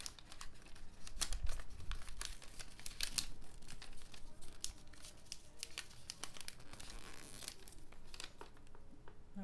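Paper crinkling and tearing while books are wrapped during a live session, with irregular crisp rustles, crackles and sharp rips, close and fairly loud throughout, no talking.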